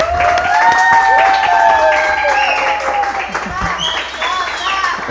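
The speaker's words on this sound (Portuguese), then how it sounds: "Palmas!" An audience claps for a podcast guest, a moderate spread of applause mixed with cheering and voices layered on top for several seconds.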